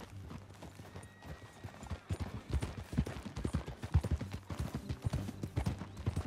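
Rhythmic clip-clop of horse hooves at a steady trot in Red Dead Redemption 2, fairly close and moderately loud, with no voices over it.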